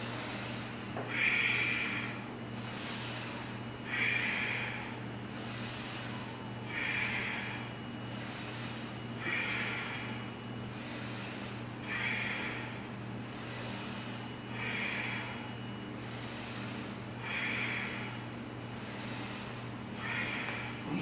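Slow, deep inhalations come one after another in a group breathing exercise, each breath a soft airy rush repeating at a steady rhythm of roughly every two and a half seconds over a low constant hum.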